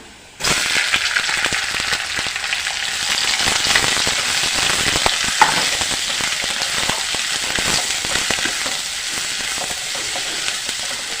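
Squid and onion fry in a pan, a steady dense sizzle with scattered crackles and pops running without pause and no talking.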